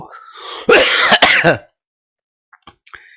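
A person clears their throat harshly and coughs a couple of times, loud and close, followed by a few faint clicks and quiet.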